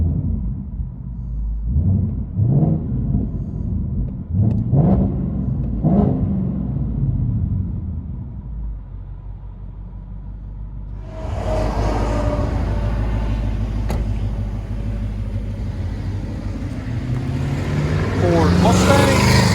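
Heard from inside the cabin, a 2018 Ford Mustang GT 5.0 Coyote V8 with an MBRP dual cat-back exhaust gives several sharp, loud revs, then settles into a deep, steady rumbling drive that builds toward the end, with a voice talking over it.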